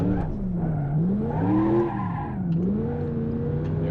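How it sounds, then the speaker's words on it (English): Tires skid and squeal as a Gavril Grand Marshal V8 swings through a J-turn in BeamNG.drive, a warbling pitched screech that rises and falls over a steady engine drone, close and continuous. "Nice little J-turn"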